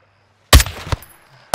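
Sniper rifle shots in Call of Duty: Modern Warfare 2 (2022): after silence, a loud close boom with a rolling tail, a sharper second crack just under a second later, and another abrupt blast at the end.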